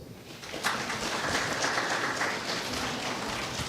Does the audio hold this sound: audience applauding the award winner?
yes